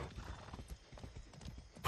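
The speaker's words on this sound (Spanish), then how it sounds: "A ver si el caballo le da por moverse." Horse hooves clip-clop in Far Cry 6, a quiet run of irregular thuds with a faint whinny near the end, set against low game ambience.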